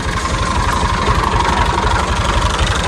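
A tractor's diesel engine idles steadily during refuelling, a loud continuous low throbbing rumble with a fast regular knock, close by and uninterrupted for the whole stretch, with no voices over it.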